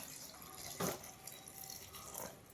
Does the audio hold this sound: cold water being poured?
yes